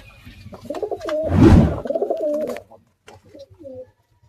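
A released pair of racing pigeons coos steadily with a burst of wing flapping in the middle, close and clear, with faint voices in the background.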